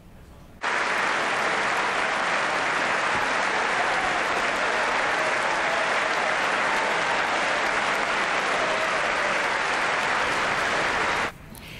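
Members of Congress applauding and cheering at the State of the Union, a dense, loud, sustained ovation that starts abruptly, holds evenly for about eleven seconds, then cuts off.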